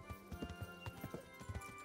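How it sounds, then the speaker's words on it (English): Horse hooves clip-clop in Kingdom Come: Deliverance, a brisk, uneven run of close, distinct hoofbeats over about two seconds. "I don't think you'd like it if I rode my horse in the church."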